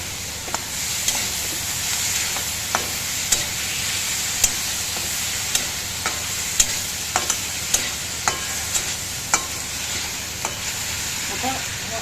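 Tomatoes sautéing with coriander in a pan for spiced masala rice, a steady close sizzle broken by regular sharp scrapes and clicks of stirring throughout.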